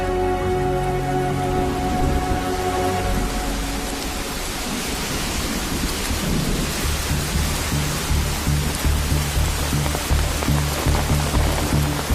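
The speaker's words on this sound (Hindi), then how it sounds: "बरसात तो रुकने का नाम ही नहीं ले रही है भैया।" Heavy rain pours down steadily, a dense, loud, continuous hiss and patter on surfaces, unbroken for the whole stretch with no voices.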